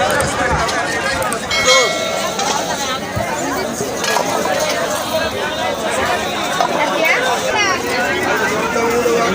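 Dense crowd hubbub at a busy Wednesday village market in the Sundarbans, many overlapping voices chattering continuously with vendors calling out, steady and close throughout.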